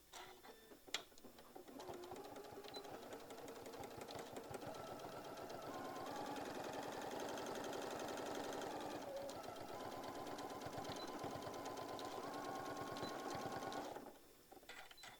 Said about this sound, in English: I'm going to go ahead and sew that center.